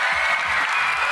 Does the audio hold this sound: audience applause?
yes